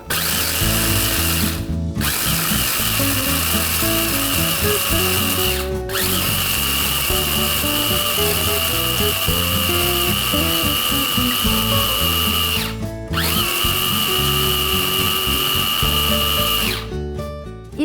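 An electric grinder mills dried chickpeas into flour, a loud continuous grinding whir run in bursts with short pauses between them, close and alone.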